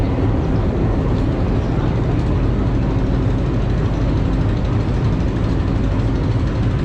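A train locomotive rumbles steadily at Rajshahi railway station, a loud, even wash of engine noise that runs unbroken with no voices.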